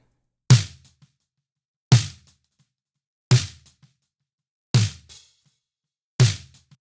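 Five evenly spaced snare hits, each sharp and gritty with a distorted crack from tape saturation and a short decay, separated by silence.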